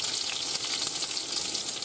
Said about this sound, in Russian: на ужин мы жарим котлеты из щуки